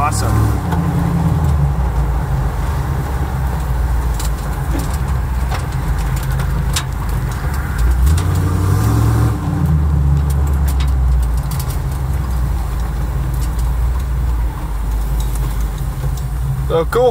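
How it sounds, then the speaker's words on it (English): A 1973 Ford Bronco V8 idles with a deep, rumbling exhaust note that swells briefly in the middle, while people talk nearby. "The exhaust sounds awesome."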